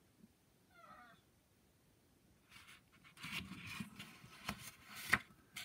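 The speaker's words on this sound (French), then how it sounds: "Vous entendez peut-être Hannibal qui veut sortir, qui miaule un petit peu." A pet cat wanting to be let out gives one short, faint meow early on. Louder rustling and scraping follow, ending in a sharp click.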